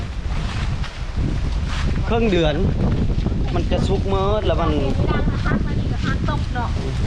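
Wind sweeps through a mango orchard early in the season, roaring and buffeting steadily against the microphone while someone talks over it throughout.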